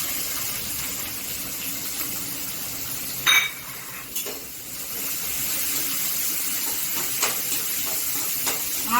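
Chopped onions frying in a pan for mushroom gravy give a steady, soft hiss of sizzling throughout, with a few brief clinks of a utensil against the pan partway through.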